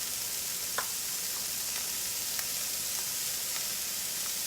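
Rib-eye steak searing in a hot pan for lo mein, giving a steady, close frying hiss with a few faint pops and crackles, and no talking.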